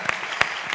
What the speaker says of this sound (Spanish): os pido un aplauso porque ha funcionado